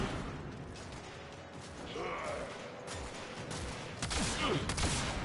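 Gunfire from a damage-over-time gun in Warframe: a steady, dense mechanical rattle of rapid shots, continuous and fairly even in loudness, with a few sharper clicks near the end, heard alone without talk.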